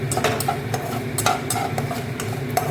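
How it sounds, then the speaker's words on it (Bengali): Whole spices, bay leaf, dried chilli, cumin, ginger, pepper and cardamom, fry in hot oil with a steady light sizzle, while a spoon scrapes and taps against the pan in quick, irregular strokes close by. "এবার এটাকে একটু ভাজা ভাজা করবো।"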